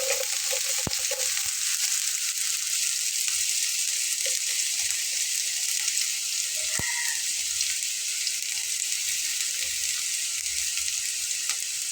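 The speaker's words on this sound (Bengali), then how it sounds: "এটা এখন ভাজা হয়ে গেছে, ছিটা ছিটে উঠছে।" Steady, loud sizzling of food frying in a pan, with constant crackle and occasional sharp spatters and a faint clink of a utensil.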